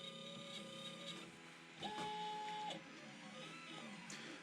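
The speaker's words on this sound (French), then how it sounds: "et là il va commencer à graver." Aufero Laser 2 laser engraver running an engraving job: a steady close mechanical whir with stepper-motor tones, plus a brief higher-pitched whine near the middle, no talking.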